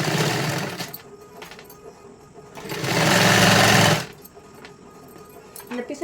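A sewing machine stitches a size 44 katori blouse in short bursts, a brief run at the start and a longer loud whirring run in the middle, with quiet handling sounds between.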